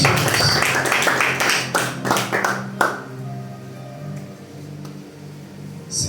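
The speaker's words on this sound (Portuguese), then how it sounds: "Vamos aplaudir Jesus?" Church congregation applauds during a sermon, a loud burst of clapping that lasts about three seconds and then cuts off, leaving a low hum and faint room noise.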